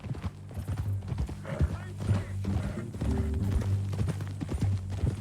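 Horse hooves clip-clop at a walking pace in Red Dead Redemption 2, close and rhythmic, with a brief whinny and characters talking over the steady steps.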